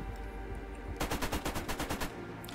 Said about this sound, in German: Das ist ein automatisches Geschütz, ja.